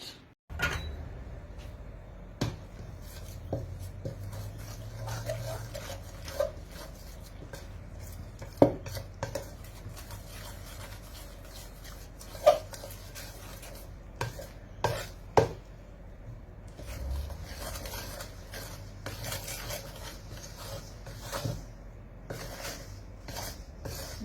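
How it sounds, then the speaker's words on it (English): A knife works through bread dough in a bowl, producing repeated dull taps and scrapes against the bowl at an uneven pace, close and fairly quiet. "now I'm going to mix it using a knife"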